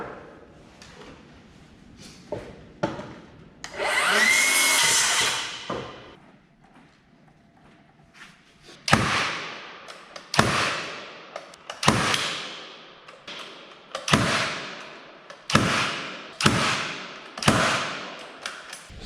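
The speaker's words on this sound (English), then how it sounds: "So you nail up your header" Hammer blows drive nails into a wooden header during framing of a rough opening, sharp close impacts in a steady series of about ten hits, after an earlier burst of rustling and scraping.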